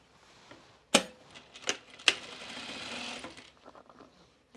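A sewing machine stitching lightweight overalls fabric, with a few sharp clacks followed by a steady whirring run of about a second, close and moderately quiet, no talking.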